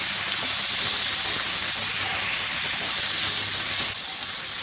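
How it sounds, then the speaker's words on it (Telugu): Carrot and potato pieces fry in a pan with a continuous hissing sizzle, close and steady, easing slightly near the end. "కొంతసేపు వేయించుకుందాం."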